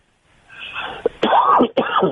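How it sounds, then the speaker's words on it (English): A quiet rising groan, then a pair of loud, rough coughs right up close, one after another. "I have allergies, so it makes me cough."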